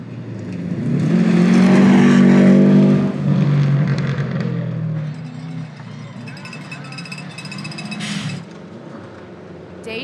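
Rally car racing along a stage of the Olympus Rally, its engine roaring loudly near the start, then easing to a steadier drone with road and cabin rattle, while a voice is heard briefly.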